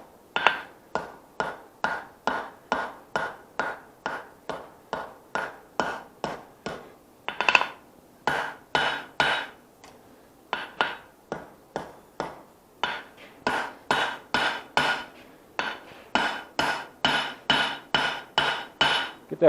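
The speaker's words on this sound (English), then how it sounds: "I'm going to hammer this point down some" Steady, close hammer blows shape the point of a forged knife blade, ringing metallically in quick regular runs of strikes with brief pauses between bursts, and no one speaking.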